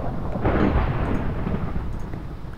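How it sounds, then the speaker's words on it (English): Thunder from a lightning strike in the Minecraft video game, played with weather on at full blast: a sudden loud crack swelling into a deep, rolling boom that fades out gradually over a couple of seconds. "If you have weather on at all, you get lightning full blast."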